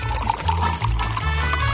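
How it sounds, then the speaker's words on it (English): Coffee pours into a mug in a short, close, continuous liquid stream with a gurgling trickle, alone without talk. "Now, it is time to pour it into a mug."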